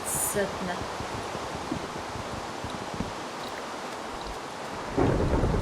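Thunder rumbles in a Minecraft game over steady rain, a continuous broad roar with a louder crack near the end and soft rustling throughout.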